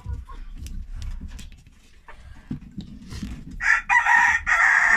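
Hen clucking in a farmyard, starting as low grunting clucks that grow into a loud, bright squawking burst near the end, alongside faint background noise.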